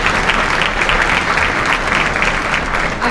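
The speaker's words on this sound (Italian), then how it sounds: "Ecco l'applauso." A theatre audience applauds after an orchestral concert number: loud, dense, continuous clapping that fills the hall, with a faint crowd murmur underneath.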